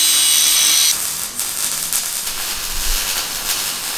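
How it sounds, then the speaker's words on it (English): A grinder works freehand on a metal mudguard bracket for an expedition vehicle, a steady close, harsh whine that drops to a rougher, quieter grind after the first second. "I'm just going to freehand it, just grind a little bit out of there"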